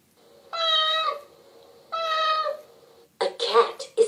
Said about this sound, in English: A cat is a small furry animal that many people keep as pets.